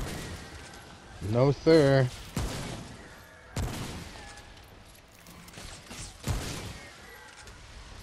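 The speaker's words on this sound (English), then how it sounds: "Shotgun is not good at range." Shotgun blasts in the co-op shooter game Remnant: From the Ashes, a few sharp broadband bursts spaced across the clip amid game effects, with someone talking over parts of it.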